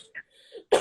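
Steady rhythmic rubbing of a sanding sponge on dark grey paint on a chair, close and continuous, with short back-and-forth strokes.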